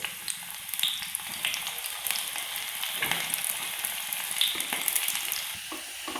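Five or six chopped shallots frying in hot coconut oil for a chicken stew, a close, bright crackling sizzle with occasional stirring scrapes, steady and fairly loud throughout.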